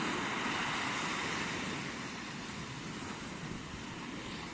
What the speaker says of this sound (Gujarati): બધે એટલા મોજા હે